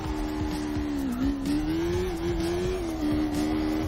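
Car engine in the CarX Drift video game, holding a steady high-pitched drone with slight pitch wobbles as the car slides through a drift, continuous and fairly loud throughout.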